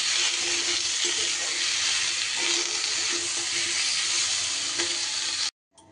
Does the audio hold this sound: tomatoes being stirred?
yes